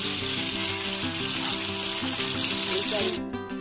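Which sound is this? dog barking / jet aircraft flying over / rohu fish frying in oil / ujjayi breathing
rohu fish frying in oil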